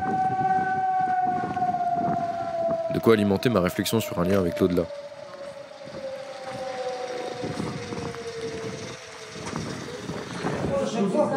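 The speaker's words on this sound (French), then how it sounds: "en suivant le son des sirènes" A siren wails in a long, slowly falling tone while someone talks over it, with a burst of louder warbling in the middle.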